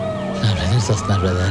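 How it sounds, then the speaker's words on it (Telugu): A wailing police siren rises and falls, loud and steady throughout a dramatic scene from the Telugu film Homam, with someone speaking over it. "వినిపిస్తుంది ఆ బ్యూటిఫుల్ సైరన్ సౌండ్"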